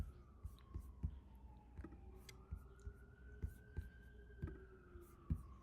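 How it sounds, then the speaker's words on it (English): An ambulance siren wails faintly in the distance as a long, slowly rising and falling tone, with soft close-up tapping and quiet whispery sounds in the foreground. "We have an ambulance in the background."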